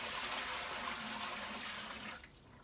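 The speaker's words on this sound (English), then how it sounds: "I'm actually going to dump this down the drain." Rinse water from washing raw fleece pours down a drain in a soft, steady gush that lasts about two seconds, then trails off abruptly to near silence.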